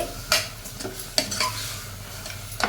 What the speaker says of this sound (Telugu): ఈ కైమ యాడ్ చేసుకోవాలి అంతా బాగా కలుపుకోవాలి